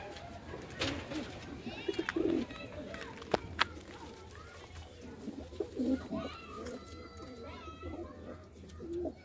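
Pigeons coo softly inside a small backyard coop, repeated throaty rolling calls scattered over a steady close background, with a few sharp clicks and flutters and someone talking over parts of it.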